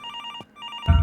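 A telephone in Infliction rings with electronic, bell-like bursts, two rings separated by a short gap, fairly loud, followed by a low thud.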